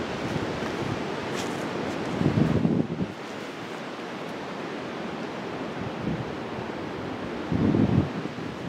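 Steady wind blowing across an open disc golf course, a broad continuous rush buffeting the microphone, with two louder low gusts swelling briefly and no voices.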